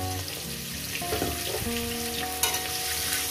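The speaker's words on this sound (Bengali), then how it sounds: "আমি আলুটাকে ভাজার মধ্যেই সিদ্ধ করে নেব, যাতে ভাজার মধ্যে পুরোটাই সিদ্ধ হয়ে যায়, সেইভাবে আলুটাকে ভেজে নেব" Potato pieces frying in a pan of oil for a rohu fish curry, a steady close sizzle with stirring and faint clinks, no talk.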